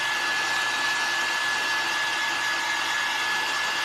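A hair dryer blows steadily and loudly at close range, drying paint on a vintage primitive-style pumpkin craft made from a Clorox wipes container, with an even, continuous whir and no talking.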